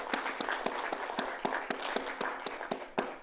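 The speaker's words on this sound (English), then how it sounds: "How about a big round of applause for the Everetts" Small audience clapping for an honored couple at a museum evening lecture, a sparse, fairly faint round of individual claps in an uneven rhythm, with no one speaking over it.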